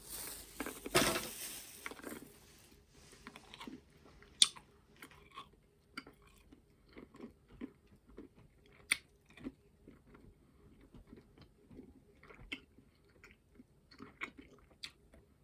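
Someone chews green sour candy from Mr. Bulky's close to the microphone, with sparse, faint crunchy bites and soft smacking in an otherwise quiet room.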